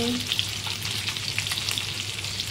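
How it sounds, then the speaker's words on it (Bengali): Dried babla fish sizzles steadily in hot oil with salt and turmeric. The sizzle is close and continuous, with faint crackles and no voices. "একটু হলুদ দিয়ে ভেজে নিচ্ছি"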